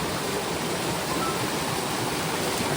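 A mountain stream running through a forest in the Sahyadri hills: a dense, steady rush of flowing water, loud and close, continuous with no breaks.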